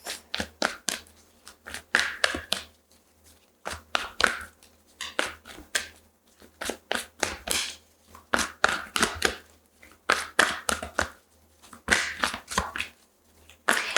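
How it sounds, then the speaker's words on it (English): Tarot cards are shuffled in repeated crisp bursts of riffling and tapping, close up and fairly loud, with short pauses between rounds. "as I'm shuffling the cards"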